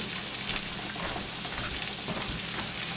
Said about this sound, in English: While the onions and garlic and pepper are sauteing